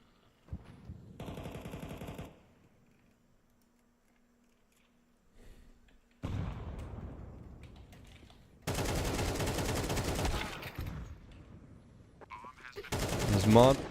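AK rifle gunfire in the Counter-Strike 2 video game comes in several loud, rapid bursts separated by quieter stretches, with a few lone shots and some faint voices between volleys.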